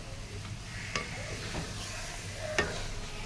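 Date pickle with tamarind is stirred in a wok, a steady scraping stir over a low sizzle with a few sharp clinks of the spoon against the pan.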